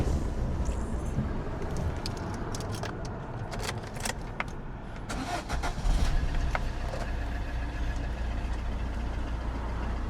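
A diesel car engine with 107,000 miles cranks with brief clicks and rattles, then settles into a steady, rough low idle that continues to the end.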